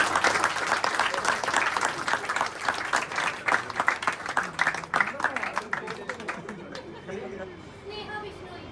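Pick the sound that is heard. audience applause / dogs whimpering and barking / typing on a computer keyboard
audience applause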